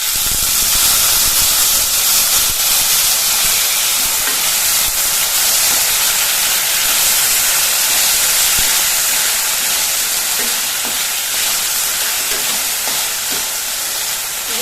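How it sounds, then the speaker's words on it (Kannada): Chopped potatoes added to frying chana dal, a loud, steady sizzle and hiss that continues without a break, with occasional faint stirring scrapes and no talk. "ಈಗ ಇದಕ್ಕೆ ನಾವು ಸಣ್ಣದಾಗಿ ಹೆಚ್ಚಿಟ್ಟಂಥ ಬಟಾಟೆ ಇದೆಲ್ಲ, ಇದನ್ನು ಸೇರಿಸ್ತೀವಿ"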